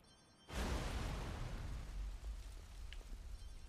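An explosion in the video game Watch Dogs 2 bursts out suddenly and loudly, then trails into a sustained rumbling roar that slowly eases off.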